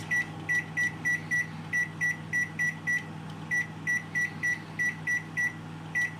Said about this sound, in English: now it is on the inside the microwave, and now I'm changing the time for 30